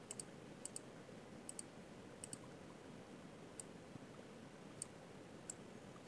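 A computer mouse clicks faintly at an office desk, about a dozen light, crisp clicks, some in quick pairs, spaced irregularly over a steady low room hum.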